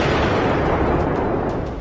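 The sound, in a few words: explosion near Ukrainian power centre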